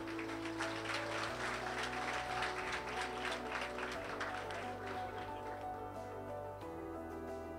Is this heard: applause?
yes